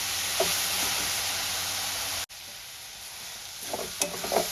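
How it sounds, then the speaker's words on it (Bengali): Grated carrots for halwa fry in a pan with a bright, constant sizzle; after a short cut the hiss carries on more quietly, with a few clinking stirs of a spatula near the end. "আর 5-10 মিনিট আমি একটু ভালো করে ভেজে নেব।"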